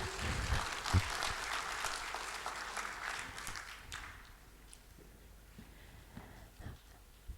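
Audience at a network operators' conference in Jakarta breaks into applause, a dense burst of clapping that fades after a few seconds into scattered claps and room murmur.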